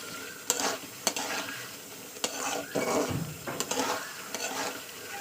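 Fish curry with onion and green chillies sizzles in a pan as a spoon scrapes and clacks against the metal, sharp knocks landing every second or so over a steady frying hiss.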